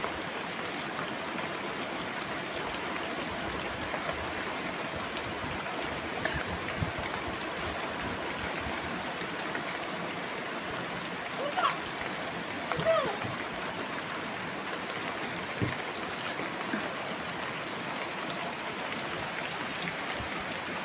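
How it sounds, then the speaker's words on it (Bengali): Continuous soft patter of rain on a village pond in the evening, a steady hiss with occasional faint drips, heard at a distance and fairly quiet. "পুকুরের পানিতে বৃষ্টি পড়তেছে"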